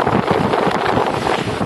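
A strong sudden wind gust sweeps across tents of local small-business stalls at the Mamuju festival site, a loud roaring buffet of wind blasting the microphone with no talk.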